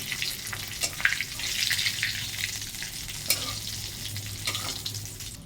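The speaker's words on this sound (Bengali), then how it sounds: "দিয়ে একটু ফোড়ন দিয়ে সেটাকে নাড়াচাড়া করছি।" Bay leaf, cardamom and whole spices tempering in hot oil, a steady close sizzle with scraping stirs and occasional spoon clinks against the pan throughout, no voices.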